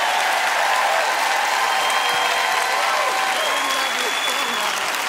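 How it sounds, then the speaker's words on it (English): Steady audience applause and hand clapping fill a church service hall at close range, a dense unbroken wash of claps with a few cheers and voices mixed in. "Give her a good hand clap as she leaves."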